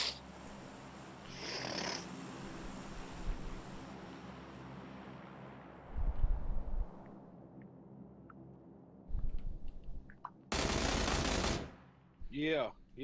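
Gunfire in PLAYERUNKNOWN'S BATTLEGROUNDS: a few sharp bursts stand out over quiet game ambience, with one loud, dense volley near the end followed by a shorter crackle.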